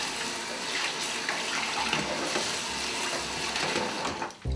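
Steady running water rinses a vinyl record under a tap, a continuous broadband splashing wash that holds evenly close up throughout, with no talking.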